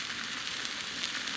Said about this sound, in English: There they are sizzling away.